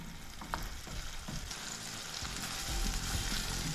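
Already-cooked mud crab meat warms with basil in a hot pan, sizzling quietly and continuously, with soft stirring clatter now and then and a slight swell in loudness toward the end.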